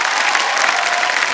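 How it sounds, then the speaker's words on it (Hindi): Studio audience applause on the set of the Indian quiz show Kaun Banega Crorepati, a dense, steady burst of many hands clapping throughout, with faint crowd murmur and no talk. "बार फिर स्वागत में इनके लिए तालियां बजाएं"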